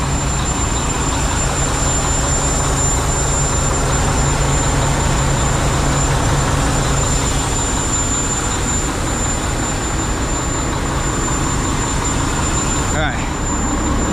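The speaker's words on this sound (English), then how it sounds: "Let me see if I can find this exhaust leak." A truck engine runs with an exhaust leak and black smoke coming from underneath. It holds a steady, loud drone close by, and the tone never changes.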